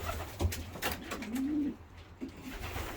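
Pigeons coo in a breeding loft, a low rolling coo rising out of steady ambient noise, with a shorter second coo after it and faint bird rustling around them.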